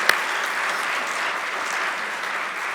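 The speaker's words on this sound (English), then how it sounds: "give her a round of applause for her splendid service" A room full of people applauds steadily, a dense even patter of clapping that holds for a few seconds.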